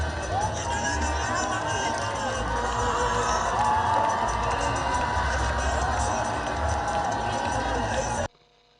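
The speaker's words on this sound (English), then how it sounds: "large crowds had also gathered to welcome and listen to the president" A large outdoor crowd gathered to welcome a president in Old Yundum constituency, Gambia, produces dense cheering, shouting and babble of many voices, close and loud, continuous for about eight seconds before it cuts off.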